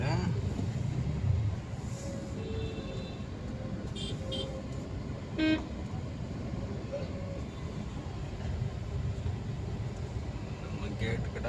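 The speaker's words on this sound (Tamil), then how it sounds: "நல்லா டிராஃபிக் ஆகிருக்கு." Heavy traffic on a busy Chennai street near Chepauk on a CSK cricket match day gives a constant low rumble. A few brief horn beeps cut through, and people talk nearby.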